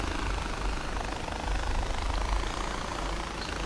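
A helicopter in the Far Cry 4 video game flies with a steady, loud rotor and engine drone that holds constant throughout, with no voices over it.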